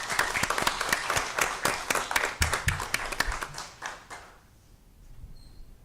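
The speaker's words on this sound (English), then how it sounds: "Let's go ahead and give them a round of applause." Modest applause from the audience at a school district governing board meeting, with distinct individual claps heard at a moderate distance that die away after about four seconds, leaving quiet room tone.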